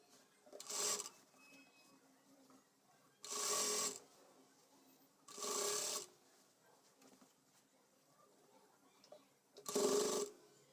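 A sewing machine stitches the neck of a top in four separate short bursts of close, rattling whir, each about a second long, with quiet pauses between them.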